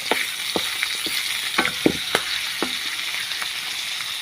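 Young jackfruit sautéing in a pan, a steady close hiss of frying with several sharp clinks and scrapes of stirring scattered through, no voices.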